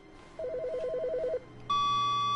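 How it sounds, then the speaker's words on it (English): An electronic telephone rings inside the video game The Stanley Parable, first as a warbling trill and then as a steady, louder electronic tone, heard alone and up close. "Phone."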